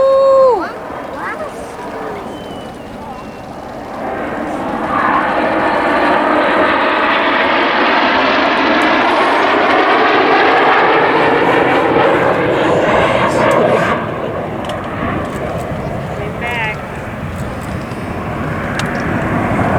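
RAF Red Arrows jets flying a display formation roar loudly overhead, swelling to a sustained, wide jet rush that fades slightly and builds again, with a commentator talking over it.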